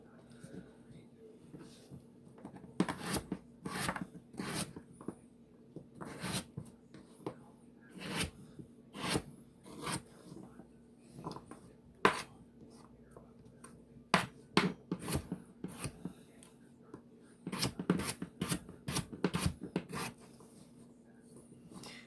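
Vegetables for a beef stew being chopped into bite-size pieces with a knife, a steady run of short, sharp knocks on a cutting board coming in quick bursts with pauses between, close and fairly quiet over a low background hum.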